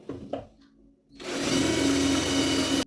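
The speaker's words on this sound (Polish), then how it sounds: "No i nawiercamy." Power drill boring a hole with a 5 mm bit, likely into metal held in a vise: a steady loud whine after a second of quieter handling noise, running about a second and a half before stopping abruptly.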